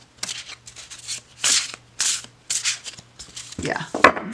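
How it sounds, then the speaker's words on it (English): A deck of Oak Ash & Thorn playing cards on smooth cardstock is shuffled close up in several quick riffling bursts separated by short pauses. "the sound of when these shuffle"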